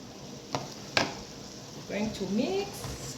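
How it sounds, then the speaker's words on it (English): Vegetables being stirred in a pan while cooking dinner, with two sharp utensil scrapes early on, then a soft background sizzle and a voice talking over the end. "I am mixing the vegetables"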